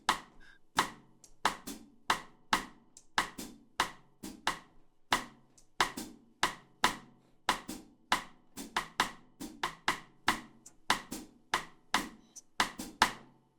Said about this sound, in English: if I was just going to play the cross stick pattern, it sounds like this